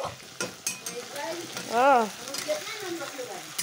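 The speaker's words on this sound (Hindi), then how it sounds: "म चाहिँ मासु भर्खे बैठाएको छु" Meat cooking in a pan gives a continuous close sizzle, with scattered stirring clinks and a brief voice sounding in the middle.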